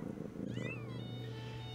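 A domestic cat gives one faint rising meow over a steady low hum and soft purring-like rumble, quiet and close.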